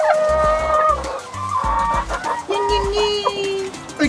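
Hens clucking in a backyard chicken coop, several short clucks and drawn-out calls overlapping one another close by, with a few sharper squawks scattered throughout.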